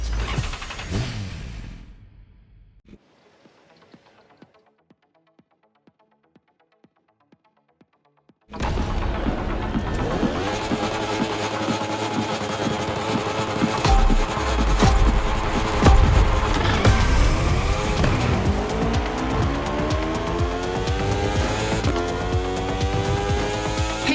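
Motorcycle racing engines in The Crew Motorfest rev and accelerate loudly after a quiet stretch of faint ticking, holding a steady high-pitched roar with rising and falling gear sweeps.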